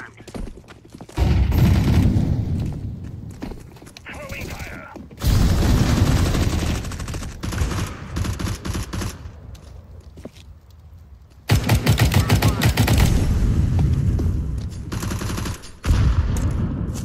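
Bursts of rapid gunfire from Counter-Strike 2, loud sustained volleys separated by quieter stretches, with a few sharper single shots near the end.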